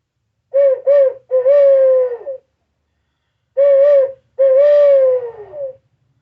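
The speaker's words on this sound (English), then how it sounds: "Owl Flute. This is by Primos." A Primos owl flute locator call blown in a rising-and-falling hooting pattern, two phrases of short hoots ending in a long drawn-out descending call, close and clear with silence between.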